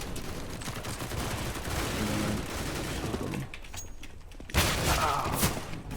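Sustained automatic gunfire in a first-person shooter deathmatch, a dense continuous fusillade of overlapping shots that briefly thins before another loud burst, heard close and alone.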